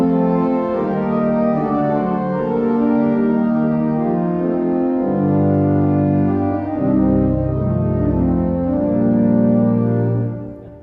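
A pipe organ sounds all five of its 8-foot diapason stops together, playing sustained full chords that shift in the low register, loud and steady throughout before releasing at the end, with no voices.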